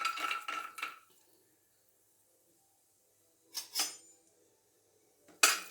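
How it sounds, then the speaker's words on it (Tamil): Cashews tipped into a metal pan for a wedding-style tomato sweet, several short bright clinks and rattles in separate bursts with quiet gaps between, close up and with no talking. "முதல்ல முந்திரி போட்டுக்கலாம்."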